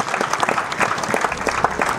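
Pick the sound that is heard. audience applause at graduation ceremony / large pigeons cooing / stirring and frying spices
audience applause at graduation ceremony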